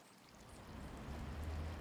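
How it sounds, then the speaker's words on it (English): Flowing water of the Hobart Town rivulet, a small stream in Hobart, Australia, as a steady, soft rushing murmur with a low rumble that swells slightly toward the end, heard alone without talk. "This is the Hobart Town rivulet"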